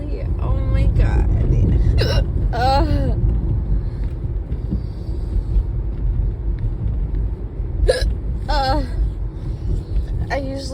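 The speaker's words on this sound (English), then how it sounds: "I usually don't hiccup like this." A person hiccups repeatedly while driving a car, sharp close hiccups coming in clusters over a constant low engine and road rumble, with some talking mixed in.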